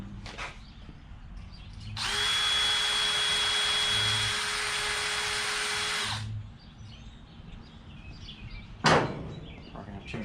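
A power drill whines steadily for about four seconds while boring a hole in the cowl of a 1955 Chevy four-door, close and loud. The drill then stops, followed by quiet shop noise and a brief sharp knock.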